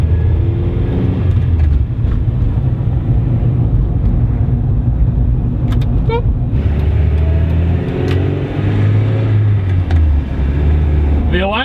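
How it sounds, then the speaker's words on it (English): A Mazda Miata rally project car rumbles steadily at close range as it is driven around the block, its engine droning and rising slightly in pitch, with road and wind noise and a driver speaking over it. "I'm gonna go ahead and take this car for a trip around the block"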